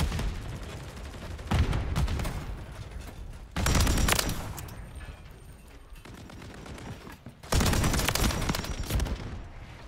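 Bursts of PULEMYOT 762 machine gun fire in Modern Warfare 3, with three loud sustained volleys separated by quieter stretches of distant combat noise.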